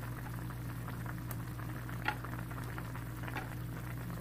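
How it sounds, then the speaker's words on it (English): Cabbage stems stir-fry in a hot pan, giving a steady, soft sizzle and bubbling with occasional light clinks of a utensil, low and even throughout under a faint background hum. "Now it's been a minute, so we will add the hard part of the cabbage guys, this one right here."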